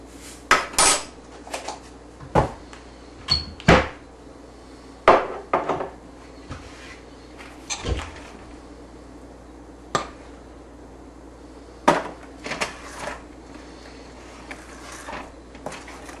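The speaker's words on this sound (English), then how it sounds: "You try to mix this in quite thoroughly." Cookie dough ingredients are mixed in a bowl, with a utensil knocking and scraping against the sides in irregular clattering bursts, separated by quiet pauses.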